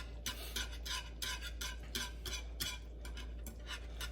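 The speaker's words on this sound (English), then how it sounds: "But you're gonna continue to whisk it until it becomes thicker before you can add it to your noodles." Alfredo sauce being whisked in a pot as it thickens, a quiet, even series of rhythmic swishing strokes, roughly two per second, over a low steady hum.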